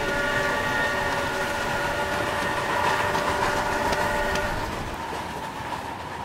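A train rolls past on railway tracks at a private crossing, a loud continuous rumble with rhythmic wheel clatter and tonal engine hum, easing slightly toward the end with no talk.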